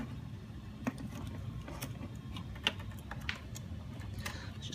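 A smart serial cable screwed into its port on IoT bus hardware gives faint, irregular mechanical ticks and small clicks over a steady low background hum, with no talking.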